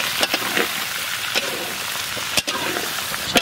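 Mango pieces hit hot oil tempered with mustard seeds, dry chillies and bay leaves for a mango chutney, giving a loud, steady close sizzle broken by a few stirring clacks, with no talking.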